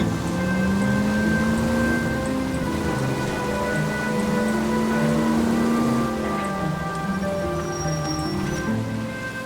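Rain falling in the game L.A. Noire, a steady hiss of drops on surfaces with a low humming tone and soft tonal layers underneath, continuous with no talk.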